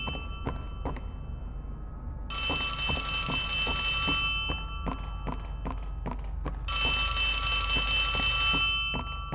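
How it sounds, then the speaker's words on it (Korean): A telephone rings in bursts in the horror video game Poppy Playtime Chapter 3, two long loud electronic ringing spells over a rhythmic series of heavy thuds and low rumble. "어? 전화가..."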